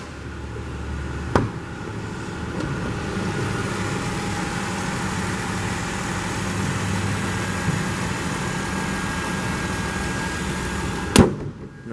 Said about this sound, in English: Check out the engine.